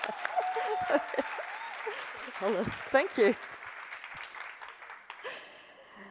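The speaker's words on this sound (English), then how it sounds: "let's applaud for" Audience applause from a crowd, a steady wash of clapping running under a voice that speaks over it, with louder bursts partway through before it thins out.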